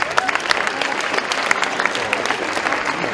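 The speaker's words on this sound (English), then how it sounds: "let's give him a round of applause" Audience applause for a high school wrestling team at an assembly, steady dense clapping from a crowd that holds for the full stretch without pause.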